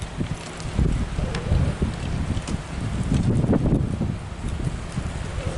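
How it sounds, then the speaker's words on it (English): Strong wind gusts outdoors on the grounds of Sonoma Developmental Center, roaring and buffeting the microphone in uneven surges, loud and close, with no voices. "It's very windy today."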